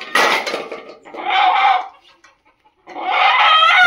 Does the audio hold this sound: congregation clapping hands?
no